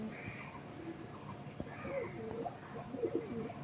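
Pet pigeons, including a male bird, cooing softly in short murmuring phrases at close range over a quiet background, with a sharp click partway through.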